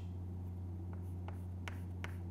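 Writing numbers on a board during a math lesson, a few faint, brief scratchy marker or chalk strokes over a steady low electrical hum.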